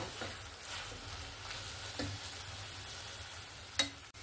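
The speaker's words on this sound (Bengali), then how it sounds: "আমি এরকম করে নাড়াচাড়া করতে করতে একদম সুন্দর করে শুকিয়ে নেব" Chikni greens with boiled potatoes and shrimp are stirred in a pan to dry out, soft rhythmic scraping strokes over a faint sizzle, with one sharper knock near the end.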